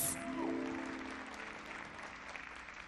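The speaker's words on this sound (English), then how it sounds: "let's, with a big round of applause, let's bring them back on stage for collective judging" Steady applause from an audience at a teen beauty pageant's party wear competition, sustained clapping filling the room throughout without much rise or fall.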